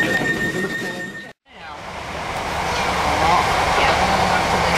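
A steady rumbling rail ride with a brief dropout near the start, then building rolling noise and faint clatter of wheels on track.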